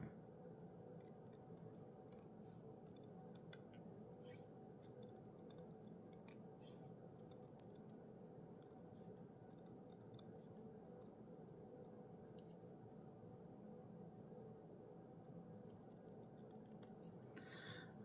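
Scissors trimming a paper border for a junk journal, giving a series of faint, crisp snips and ticks spread irregularly over a steady low hum, close and quiet.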